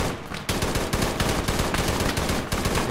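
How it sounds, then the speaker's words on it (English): Rapid gunfire rattles through a military video game set in a warzone, a loud sustained burst of automatic shots after a brief lead-in, close and unbroken for several seconds. "Taking fire from the rear."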